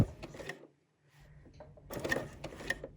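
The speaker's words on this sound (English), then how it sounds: "Then I'm going to stitch" A sewing machine runs a few short stitches while a tote bag is sewn, two brief bursts of rapid mechanical clatter separated by a pause, close and fairly loud.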